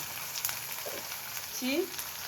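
Onion with ginger-garlic paste frying in a pan, a steady sizzle with a few faint clinks and stirring scrapes, close and fairly quiet, with no talk.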